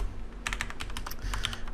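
Computer keyboard keys clack in a quick irregular burst of a dozen or so presses, close and crisp over a low steady hum.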